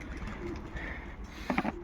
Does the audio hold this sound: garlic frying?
no